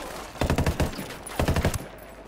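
Automatic gunfire in the video game Ghost Recon Wildlands comes in two rapid bursts of sharp shots with a short pause between them, loud and close, with no talking.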